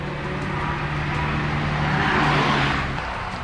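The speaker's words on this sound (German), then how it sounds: "Jetzt kommt schon wieder ein Auto." A car driving past outside, a steady engine rumble that swells to a peak around the middle and then fades, close and fairly loud, with no talking.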